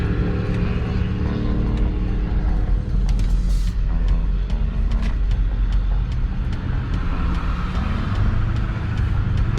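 A car rolls slowly in to park, its engine and road rumble droning steadily from inside with faint clicks and rattles and no break in the noise.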